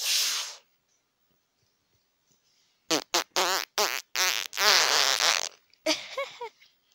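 A cartoonish character farting in the Roblox game MeepCity, a hissy burst followed by a rapid series of loud, raspy bursts and a final sputtering trail, close and prominent against silence.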